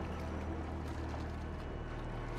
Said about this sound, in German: Da ist das Boot schon wieder.